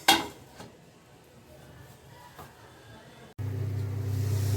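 A metal lid clatters onto a cooking pan of frying masala with a sharp clink at the start, followed by soft kitchen noise and then a steady sizzling hiss once covered.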